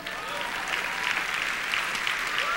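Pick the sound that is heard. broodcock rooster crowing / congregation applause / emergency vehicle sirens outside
congregation applause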